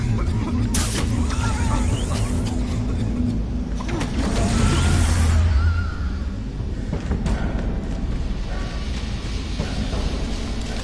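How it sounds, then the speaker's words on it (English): Smoke bomb bursting in Batman: The Telltale Series, a broad hissing whoosh over a low rumbling game soundscape, with someone talking over it. "Smoke bomb. What the hell is this? Smoke bomb."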